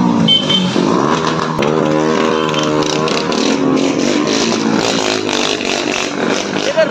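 Motorcycles revving in jammed Eid-day traffic, loud buzzing engines rising and falling close by with overlapping throttle blips, and voices talking over them.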